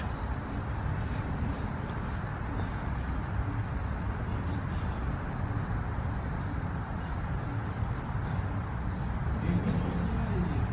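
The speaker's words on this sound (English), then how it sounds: "The crickets are really loud today." Crickets chirp loudly and without pause, a dense, high, pulsing trill that holds steady for the whole clip over a low outdoor rumble, with no voices.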